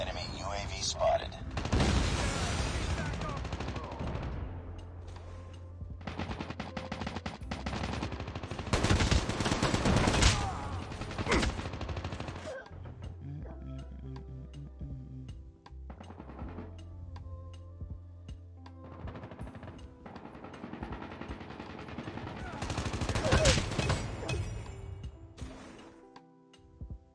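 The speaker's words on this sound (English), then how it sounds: "Teammate! Stop shooting at me!" Bursts of automatic gunfire from a Call of Duty Mobile match, several dense volleys with pauses and mechanical clicks between them, loud and close, mixed with a player's speech and game sounds.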